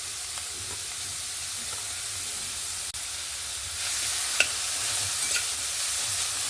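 Beans, carrots and capsicum fry lightly in a pan for chicken soup, giving a steady soft sizzle and hiss with a few faint clicks of stirring, one brief sharp knock partway through, and slightly louder frying afterward.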